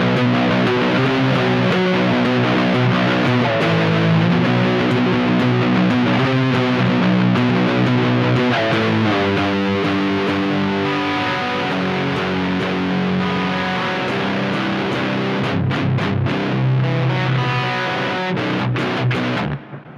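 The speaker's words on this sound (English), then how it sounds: "we're gonna move over to high gain territory, channel A of amp 3 of the Mark II. Let's start with the bridge pickup" PRS Tremonti baritone guitar on its bridge pickup through a high-gain Mark II amp channel, thick distorted chugging riffs and sustained heavy chords played loud and continuous for the whole stretch, with no voices.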